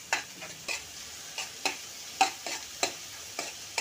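Green chillies sautéed on high flame, stirred in quick, regular strokes that make sharp scraping swishes roughly twice a second over a soft, quiet background sizzle.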